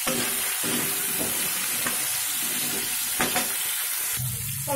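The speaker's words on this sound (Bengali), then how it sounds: "কুমড়োটাও একটু 2 মিনিটের মতো ভেজে নেবো" Pumpkin pieces frying in oil in a pan for a vegetable dish with pui shaak, giving a steady close sizzle and occasional stirring scrapes throughout, with no voice over it.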